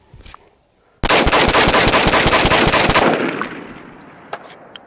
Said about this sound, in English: So this is 10 rounds. I'm using Frontier 223 with the Hornady ammo, with the Hornady bullets.